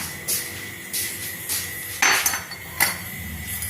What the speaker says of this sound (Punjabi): ਭਾਂਡੇ ਕੱਢਣ ਲਈ ਪਾਈ ਹੈ ਟੋਕਰੇ 'ਚ